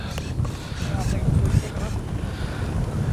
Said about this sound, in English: Boy, is it windy.